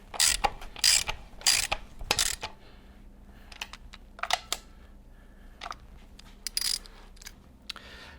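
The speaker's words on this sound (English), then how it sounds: "we are then able to tighten up the airbox. And torque that spec." A ratchet tightens the airbox bolts on a Harley-Davidson Sportster, a close series of bursts of rapid metallic clicking with short pauses, followed by fainter, sparser clicks and handling noises.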